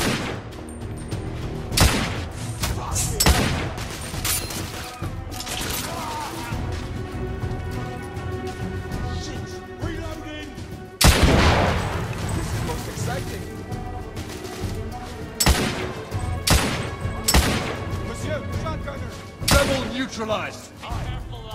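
A fire fight in The Order: 1886 video game, with loud sharp gunshots and crashing impacts in irregular bursts and single cracks, close and punchy, over a busy background of combat noise.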